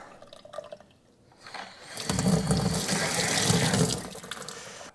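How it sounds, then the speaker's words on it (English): Tap water from a well-pump-fed faucet runs steadily and loudly after a quieter start, a continuous splashing rush filling the second half. "We got us some running water."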